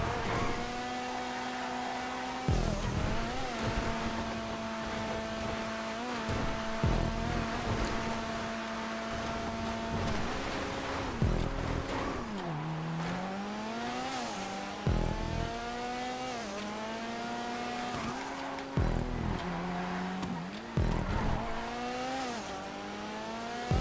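Cars racing around a rally track in GTA 5 on PC, engines revving and shifting through repeated rises and sudden drops over about twenty-four seconds, close, loud and continuous without any talking.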